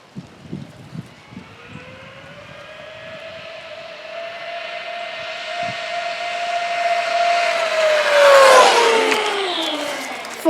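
A Traxxas Rustler 4x4 VXL RC car on a 3S battery with stock tires does a speed run, its motor whine rising steadily in pitch and loudness as it accelerates, peaking as it passes close by, with scattered clicks at the start.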